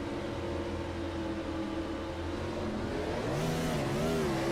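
The number 24 race car's engine accelerates at Bristol during a retro cup series race, rising and wavering revs under a steady background roar of other engines, fairly distant and with no talk.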